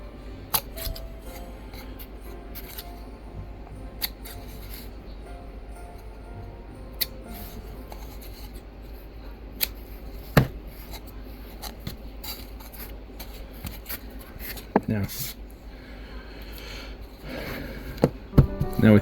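Scissors trimming the corners of a snowy terrain craft base for a Christmas village: faint, intermittent snips and scraping clicks over a quiet background, a few sharper cuts standing out.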